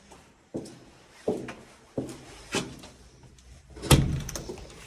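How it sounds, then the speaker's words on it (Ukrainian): Front door of a city-centre smart apartment opening, a series of close knocks and latch clunks followed by a louder thud, in a quiet room with no talking. "І отут у нас вход, входна дверь"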